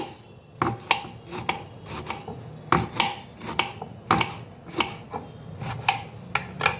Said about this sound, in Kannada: ಈ ಥರ ಚಿಕ್ಕದಾಗೆ ಕಟ್ ಮಾಡ್ಕೊಳ್ಳಿ